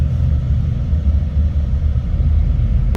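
A Krish Travels day bus on the Coimbatore to Chennai route rolls through the Tindivanam toll gate, its engine producing a loud, steady, close low rumble throughout.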